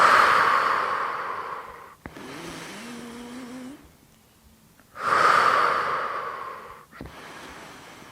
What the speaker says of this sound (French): Bouche entrouverte, langue décollée du palais, on respire.